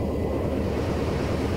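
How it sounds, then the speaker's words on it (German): Video game aircraft splashing down onto water, a dense, continuous rush of water and surf-like noise, loud and steady for the whole moment, with no voices. "Und platsch, sind wir im Wasser gelandet."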